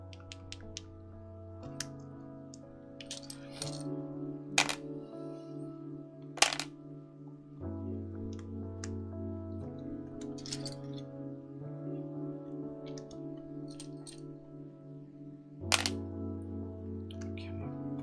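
Keycaps pressed onto the switches of a Vella prototype mechanical keyboard during a build make a few sharp, close clicks and snaps, spaced apart over steady background music.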